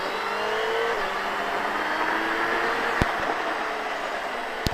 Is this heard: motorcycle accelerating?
yes